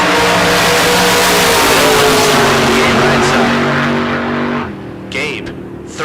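A 1963 Corvette launches at a bracket drag race, its engine roaring loud and close as it accelerates, with an announcer talking over it before the sound fades away.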